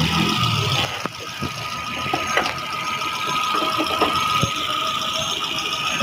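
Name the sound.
2008 Kia Picanto four-cylinder engine idling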